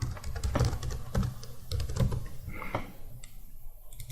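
Typing a password on a computer keyboard during a WordPress server install, with a run of close, irregular key clicks and taps over a quiet room background.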